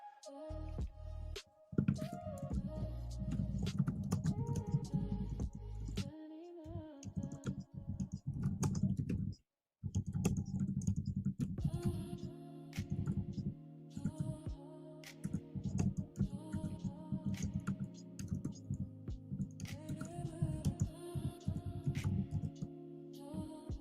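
Computer keyboard typing runs steadily for about twenty-four seconds, dense irregular key clicks with brief pauses around two and ten seconds, layered over a low constant background hum.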